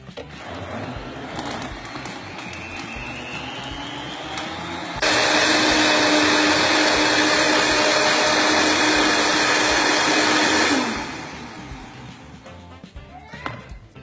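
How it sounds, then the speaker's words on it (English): An electric blender whirs loudly through soup for about six seconds, starting abruptly and cutting off, with quieter kitchen noise and bird cooing before and after. "I'm going to keep pouring some from here into here and blending it till it has a nice consistency"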